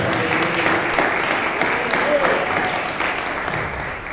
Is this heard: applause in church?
yes